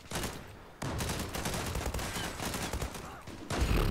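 Rapid gunfire in the online shooter Zula, a dense continuous barrage of close loud shots with brief pauses, a shotgun among the weapons, with no talk over it.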